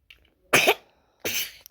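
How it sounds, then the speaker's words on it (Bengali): A child's two harsh coughs, a short pause between them, close and loud against near silence. "এত কাশি হচ্ছে কেন"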